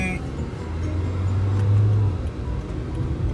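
A car turning on Al Muroor main road in Abu Dhabi, heard from inside as a steady engine drone that swells briefly in the middle, with road noise underneath.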